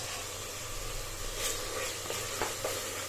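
Ginger garlic paste fries in a pan over a low flame with a continuous soft sizzle. A few light stirring scrapes and a low steady hum sit underneath.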